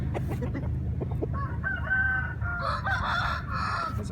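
A Thai brood rooster crows once, loud and close, with a long drawn-out call over steady low rumbling background noise and a few clucks from other fowl before it.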